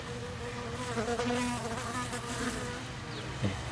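Honeybees buzz busily at a hive entrance as foragers bring in pollen, a dense steady hum with individual bees passing close by.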